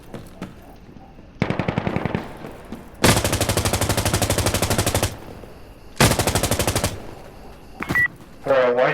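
Automatic gunfire in the video game Insurgency Sandstorm rattles out in loud sustained bursts, a short burst followed by two longer rapid-fire strings, with a few scattered single shots afterward.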